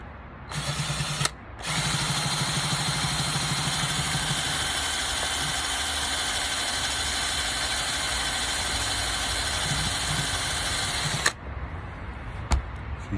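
Twin nitro engines on a Schumacher Manic RC car turning over and running, a loud buzzing drone after a short false start, then cutting off abruptly followed by a few clicks.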